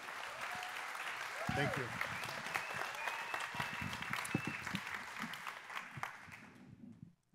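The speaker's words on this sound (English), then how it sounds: "I feel like you were applauding" A church congregation claps steadily for several seconds in a sustained round of applause that fades out at the end, while a speaker's voice briefly comes through over it.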